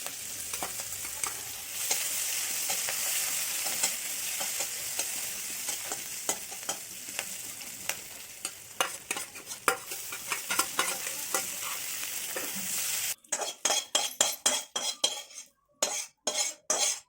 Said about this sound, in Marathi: थोडं तेल टाकत आहे थोडं जिरा वगैरे हे परतून घेते